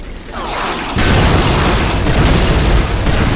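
A loud explosion bursts suddenly in Hunt Down the Freeman, from barrels, followed by a sustained roaring rumble that lingers for a few seconds.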